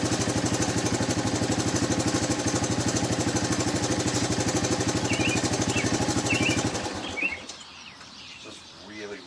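A 1983 Honda ATC200E Big Red three-wheeler's single-cylinder engine putters in a fast, even beat up close, then cuts off abruptly, leaving quiet outdoor ambience with faint chirps.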